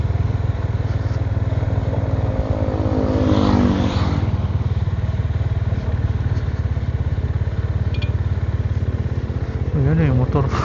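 A motorcycle engine drones close by along a bay walk in San Nicolas, Batangas, with a steady rattle and a brief rise as it passes.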